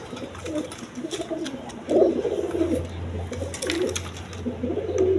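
Several Kaldom pigeons coo in low, throaty, repeated phrases close by, overlapping one another, with faint background noise.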